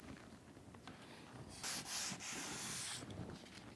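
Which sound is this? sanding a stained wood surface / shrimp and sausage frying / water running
sanding a stained wood surface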